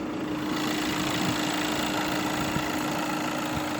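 Audi A6 2.0 TDI diesel idles steadily nearby, a constant low, even engine hum with a faint tonal drone and no talking.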